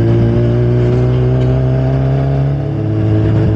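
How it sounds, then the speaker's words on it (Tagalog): A motorcycle engine revs and rumbles steadily with a deep, bassy exhaust tone, holding a strong low drone throughout with a slight dip near the end. "medyo tumahimik tong motor natin ngayon na may bass. Pero mas okay, buong buo yung tunog"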